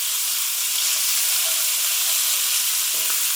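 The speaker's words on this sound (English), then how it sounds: "Let's throw in the chard stalks with their beautiful vibrant colours. Give them a good stir." Chard stalks hit a hot pan and sizzle loudly in a dense, steady hiss, with a brief clink of stirring near the end.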